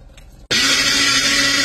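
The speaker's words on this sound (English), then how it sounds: "pour it in your blender and let's make our puree" A kitchen blender pureeing softened strawberries with water starts suddenly after a quiet moment, then whirs at a loud, steady, high-pitched roar.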